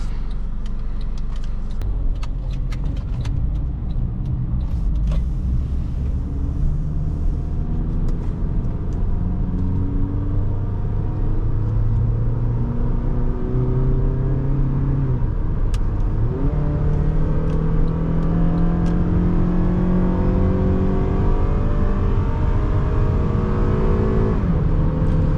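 A 2009 Honda Accord LX drives and accelerates, its engine note rising through gears in a steady loud cabin rumble with clear upward sweeps, no talk.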